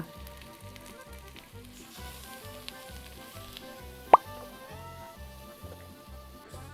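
Coconut milk goes into a hot pot of village chicken curry with raw banana. A quiet, steady sizzle and bubbling run throughout, and one sharp click stands out midway.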